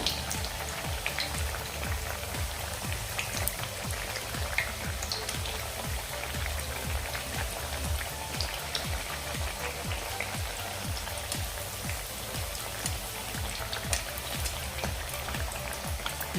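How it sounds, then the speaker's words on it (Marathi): Palak vadi pieces fry in hot oil with a dense, continuous sizzle and crackle, steady and close throughout with no voices. "आता आपण दुसऱ्या साईडने फ्राय करून घेऊया फ्लिप करून घेऊया सगळ्या"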